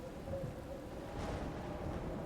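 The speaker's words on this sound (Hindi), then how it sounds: "बिजलियाँ कड़क रही थी।" Deep thunder rumbles low and broad in a horror audio drama, a rolling swell that builds midway over a steady wash of rain, with no voices.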